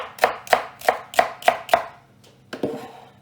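Six evenly spaced knife chops through celery on a cutting board, crisp and close, followed by a couple of looser, softer chops after a short pause.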